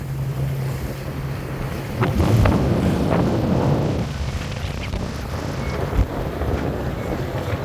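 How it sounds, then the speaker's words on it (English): Strong gale wind roars across the microphone with heavy buffeting, loud and continuous, over the rush of water, in a harbour near Motutapu Island, Auckland, with boats out. "it's howling gale"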